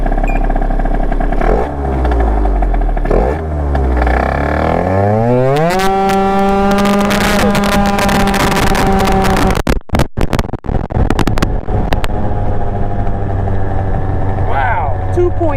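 A sequential R33 car (Aerox) revving hard and accelerating through a 0 to 30 test, engine pitch climbing through several gear shifts, loud and close, with a brief clatter midway and someone talking under it.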